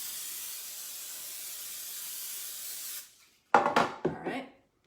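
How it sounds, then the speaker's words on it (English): Cooking spray hisses steadily onto a nonstick pan for about three seconds, a continuous close spray, followed by a couple of brief clatters and knocks of kitchenware. "you want to lavishly spray even if it's nonstick"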